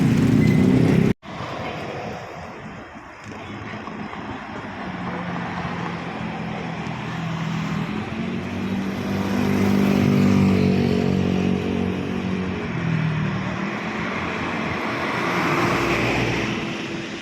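Continuous road traffic crawls over the Balagtas Guiguinto flyover, slowed by a broken-down truck and wreckers, giving a steady rumble of car and motorcycle engines that swells slightly midway, near and unbroken, with no talk.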